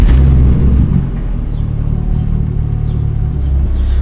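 A turbocharged BMW E46 revs and pulls away, a loud close deep engine rumble that swells, eases slightly, then builds again as the car drives off.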